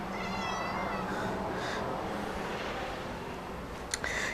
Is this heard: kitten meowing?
yes